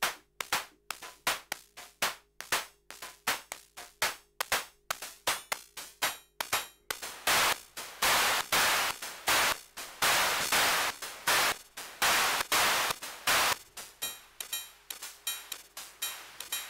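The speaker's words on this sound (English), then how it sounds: "you can actually start shaping your own hi-hats with this sound here." Synthesized hi-hats from the Ruismaker Noir drum synth on iOS, a fast steady pattern of crisp ticking hits that shifts into longer washy open hats midway and returns to tight clicks, loud and close with no talk.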